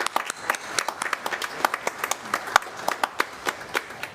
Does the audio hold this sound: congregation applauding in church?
yes